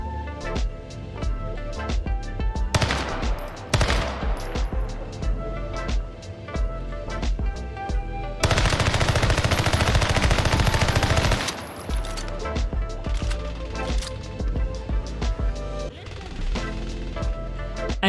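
Rapid automatic rifle fire during a recoil test in the Warzone video game on the Caldera map, loud dense bursts of gunshots that repeat through the stretch, with the heaviest sustained burst in the middle, over background game music.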